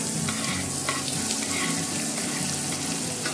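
Onions fry in a pan for a palak millet khichdi, a dense, steady hiss and sizzle with faint stirring clicks throughout. No one speaks.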